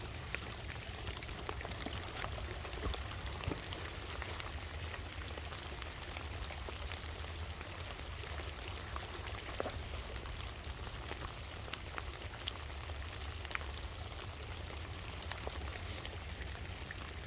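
Steady rain patters on flowing water, a continuous broadband hiss with scattered droplet ticks, close and even throughout, no voices.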